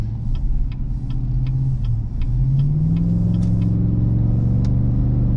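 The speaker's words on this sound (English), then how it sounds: "I like the Borla exhaust." A deep, steady exhaust rumble from a 2019 GMC Yukon AT4's 6.2-liter V8 with Borla exhaust, a low throaty drone rising slightly in pitch partway through, loud and continuous, with faint ticking on top.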